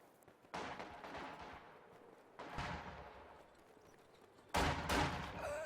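Distant MG42 machine-gun fire in a WWII strategy video game, arriving as three separate bursts of rattling gunfire, each a few seconds apart.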